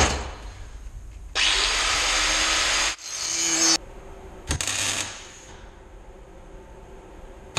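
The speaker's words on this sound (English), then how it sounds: "Life is a lot easier with a bandsaw." Bandsaw cutting through metal plate for a go-kart build, two loud sustained bursts of steady hiss-like cutting noise lasting over a second each, with quieter workshop rumble and brief clatter between them.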